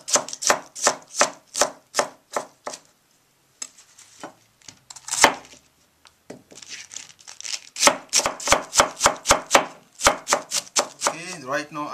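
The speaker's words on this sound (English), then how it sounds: "Now I'm chopping a baby bok choy." A knife chops baby bok choy on a cutting board in a steady run of sharp, close taps, pausing midway for some rustling and handling before the quick chopping resumes.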